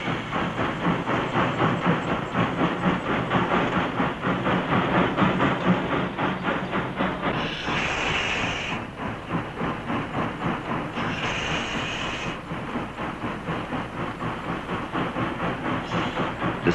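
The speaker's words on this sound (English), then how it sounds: "The rotary plows are pushed by 2 steam locomotives" Two steam locomotives push rotary snow plows on the White Pass railway, giving a steady, loud mechanical rumble with rhythmic chuffing texture and two bursts of hissing steam.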